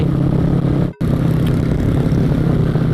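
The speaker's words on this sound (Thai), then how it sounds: "โซนิกท่อลั่น" A motorcycle engine roars loudly and continuously with a rough, gritty exhaust note, briefly cutting out for a moment before resuming.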